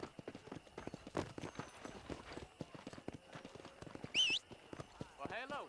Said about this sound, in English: Opção de chamar o cavalo.